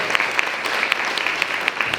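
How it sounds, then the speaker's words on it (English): An audience at a youth climate action holiday party applauds, a steady patter of clapping with individual sharp claps standing out, moderately close and without talk. "Round of applause for that."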